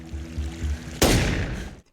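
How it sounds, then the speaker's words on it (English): Sharp burst of film gunfire, loud and close, following a stretch of low rumbling ambience before fading quickly to silence. "I am so confused with this gunshot."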